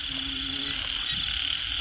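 Frogs croaking densely across a rice field on a rainy night, a continuous loud chorus of trilling calls filling the air with no gaps.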